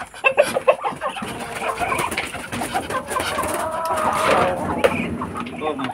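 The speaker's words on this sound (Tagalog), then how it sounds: "Ito, ayan, nagugutom na sila, yung mga Rhode Island." Hungry Rhode Island Red chickens clucking and cooing nearby, a busy overlapping flock chatter with a few sharper calls, steady throughout with someone talking over them.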